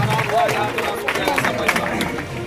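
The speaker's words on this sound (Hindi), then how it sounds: "एक जोरदार तालियों से आप लोग अभिनंदन करिए, स्वागत करिए" Crowd at a village event welcoming Bihar's rural development minister breaks into applause mixed with cheering and babble, a busy, moderately loud wash with a voice over it.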